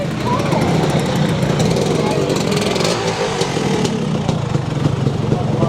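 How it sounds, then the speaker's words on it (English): Motor scooters at a scooter festival ride along a road in Leek town centre, a loud, continuous engine drone with voices faintly mixed into the traffic noise. "There's so many scooters actually about and coming up and down the road."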